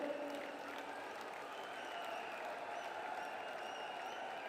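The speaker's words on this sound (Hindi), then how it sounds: "एक बार जोरदार ताली बजाकर।" A large crowd applauds loudly and continuously at a political rally in Jaipur welcoming Narendra Modi, a dense, steady wash of clapping with some cheering mixed in.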